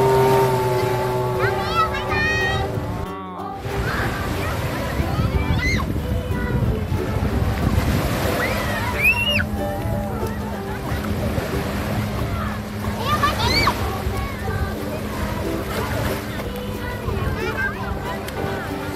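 Sea water splashing during play on a sandy beach by a hotel in Cha-am, with waves and wind noise on the microphone, children's voices and shouts over the sloshing, and one brief dropout.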